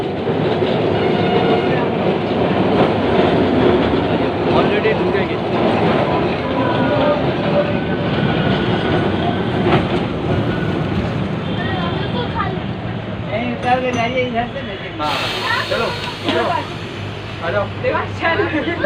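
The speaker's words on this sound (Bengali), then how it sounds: "এই যে ধর্মতলা ট্রাম কোম্পানির বা স্ট্যান্ডে চলে এসেছি অলরেডি এই যে স্ট্যান্ডে ঢুকে যাচ্ছে" A rumbling Kolkata tram rolls along clattering rails into the Dharmatala depot, with rhythmic wheel clicks and a squeal near the end; voices talk throughout.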